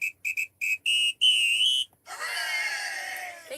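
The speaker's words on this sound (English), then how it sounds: "Let's give you a samba whistle." A samba whistle sound effect blows a series of sharp, shrill blasts in a quick rhythm, followed by a loud, wavering screaming sound effect.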